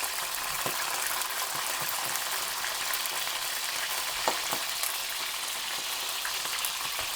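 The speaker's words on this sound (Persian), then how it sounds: "پرش های روغنش هم زیاده" Eggplant pieces frying in hot oil give a steady, moderately quiet crackling sizzle with scattered sharp pops of spattering oil, continuous for several seconds.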